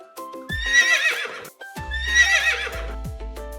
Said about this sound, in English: A horse says neigh and runs fast.